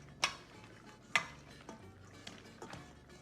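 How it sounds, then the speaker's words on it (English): Egg is stirred into pastitsio ingredients in a bowl, with a few sharp utensil clinks against the dish over soft, irregular mixing and scraping; no talking is heard. "Put the egg in, then we just mix it all up,"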